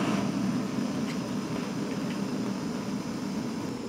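A portable gas cooker fed by a gas cartridge, lit and burning with a steady, close roaring hiss that holds evenly throughout.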